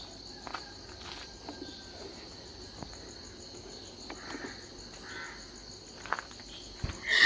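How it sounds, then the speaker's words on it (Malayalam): Crickets chirp outdoors in the morning in a steady, continuous high trill. A few faint footsteps and distant bird calls come and go, with a louder rustle at the very end. "ആകെ ചീവീടിൻ്റെ സൗണ്ട് മാത്രമേ കേൾക്കണുള്ളൂ"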